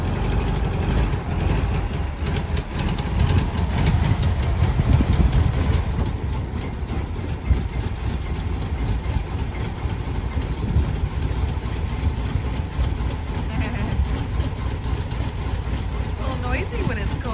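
A 1957 VW Oval Beetle's air-cooled engine idles cold, giving a loud, steady, rough low rumble with a quick rhythmic tick that carries on throughout, while people talk over it.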